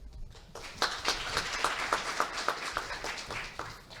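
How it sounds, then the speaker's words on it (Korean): Audience applause at a Korean funding programme briefing session welcomes a presenter to the stage, a moderately faint patter of many hands clapping that starts abruptly after a quiet moment and continues steadily, with no one speaking. "큰 박수로 맞이해 주시기 바랍니다"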